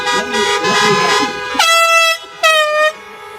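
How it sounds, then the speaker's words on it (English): Car horns at a drive-in event blare in long overlapping honks, loud and close, with a crowd of tones sounding together and a second burst following a short gap. "let's hear a honk"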